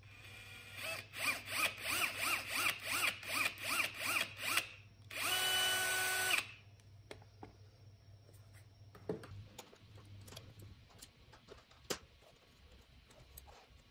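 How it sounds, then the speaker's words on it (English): Power drill boring holes for shelf brackets on a credenza display cabinet: a string of short, rising whirring bursts, then one longer steady run, followed by quieter tapping and handling sounds. "I marked the placement of the brackets, drilled the holes, and installed them."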